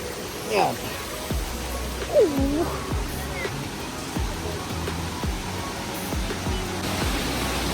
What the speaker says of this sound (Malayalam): ഇതാണ് ആ വലിയ വെള്ളച്ചാട്ടം